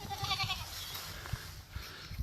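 A black goat with her kid bleats nearby, a wavering cry at the start followed by scattered soft rustles and thumps in a quiet outdoor setting.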